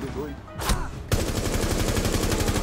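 Gunfire in the video game Rainbow Six: a loud single shot, then a sustained rapid automatic burst that runs to the end, with players talking briefly before it.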